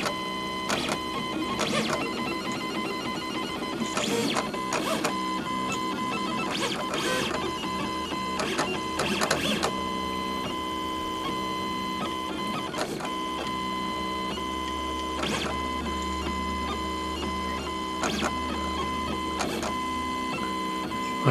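A RepStrap Mendel 3D printer runs a pen-plotting print, its stepper motors whining and buzzing steadily. Short bursts of higher-pitched movement come and go over a constant mechanical hum, with no voices.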